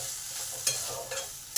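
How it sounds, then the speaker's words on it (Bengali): Crushed peanuts stirred into a frying spice mixture for banana-flower chops give a continuous close sizzle with a few spoon scrapes against the pan. "বাদামটা ভালো করে চপের মশলার মধ্যে মিশিয়ে নিলাম।"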